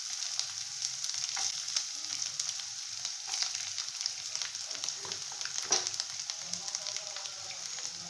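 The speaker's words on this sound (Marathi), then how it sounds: "सगळ्यात आधी मी याच्यामध्ये गाजराचे तुकडे टाकून देते" Carrot pieces sautéing in a pan for khichdi give a steady, close sizzle with faint crackles and occasional soft stirring taps throughout, with no talk.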